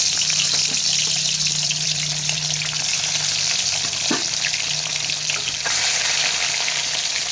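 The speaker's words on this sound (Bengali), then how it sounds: "এবার আমি একটা একটা করে মাছ দিয়ে দেবো গরম তেলে।" Bhola fish sizzling steadily in hot oil, a continuous close frying hiss with faint crackles and a brief clink partway through, no voices.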